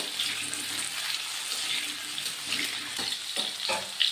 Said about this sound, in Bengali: তো আলুটা সেদ্ধ হওয়ার জন্য একটু জল অ্যাড করে দিলাম।